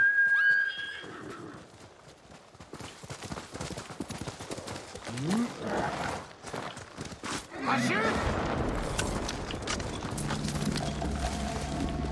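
A horse in the video game Ghost of Tsushima whinnies loudly after being struck in the head by an arrow, followed by galloping hooves, clashing combat sounds and game music, with a voice talking over it.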